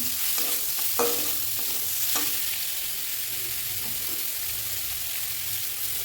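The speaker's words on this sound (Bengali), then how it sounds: "এই যে আলু পেঁয়াজ করি এগুলো যে ভাজা ছিল ওটা আমি দিয়ে দিলাম, দিয়ে আবার একটু নাড়া দিচ্ছি।" Fried potato and onion are stirred in a pan while making chira polao, a flattened-rice pilaf, with a constant close sizzle broken by a few scraping spatula strokes.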